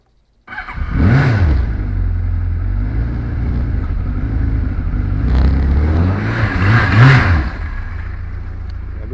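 A motorcycle engine catches from a cold start after a short choke, then idles steadily with two distinct throttle blips that rise and fall, loud and close.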